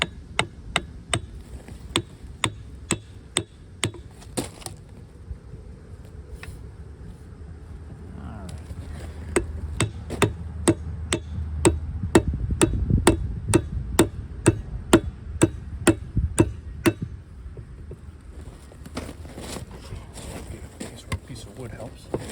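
Repeated metal hammer strikes driving a Lombardini diesel engine into a 1970s Sears Suburban tractor, sharp evenly spaced blows in steady runs with a short pause, someone talking quietly between them.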